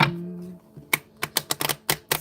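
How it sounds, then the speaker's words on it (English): A quick series of crisp tarot cards being riffled and tapped, several sharp flicks in an uneven rhythm, close and clear with no talking. "Shuffle one more time."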